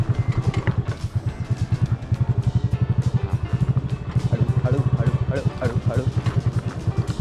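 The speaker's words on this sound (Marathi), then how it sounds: "डाऊन गेले पूर्ण, gear down and engine breaking on" An off-road vehicle on a trail near Lonavala creeps downhill in low gear under engine braking, its engine beating in a rapid, even thump with rattling clatter over the top.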